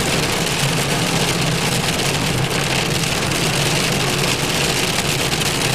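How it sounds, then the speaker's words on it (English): Steady heavy rain drums on a car as it climbs a mountain road in Tennessee, a dense unbroken wash of noise with a faint engine hum beneath, close and continuous with no talking. "It's only raining."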